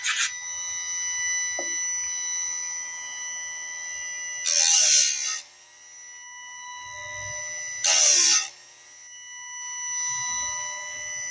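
A saw tooth sharpened with a file, heard as two loud, bright rasping strokes about three seconds apart over a steady high tonal whine, with quiet scraping between them.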